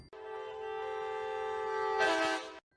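A single sustained train horn sounds as an effect in a Hindi horror story. It is a steady, clear tone lasting about two and a half seconds, heard alone, swelling slightly before it cuts off abruptly.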